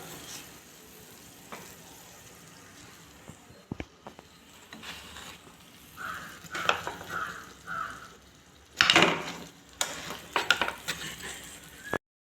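Wheat flour egg flatbread fries in a pan with a faint steady sizzle, broken by a few scraping and clinking turns with a spatula, close and quiet, no talk.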